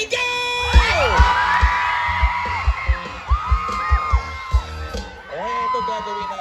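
Concert crowd at a performance yelling and cheering loudly, with rising whoops and shouts from many voices over a steady pulsing beat, near and dense.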